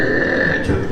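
A voice actor imitates a cartoon belch, a loud, close, sustained croaking burp with a gravelly, grunting texture that lasts about a second.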